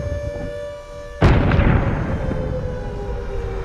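A loud explosion bursts in sharply in a Piggy Intercity game trailer, cutting across a steady alarm tone, then a second blast follows and a long rumbling decay carries on to the end.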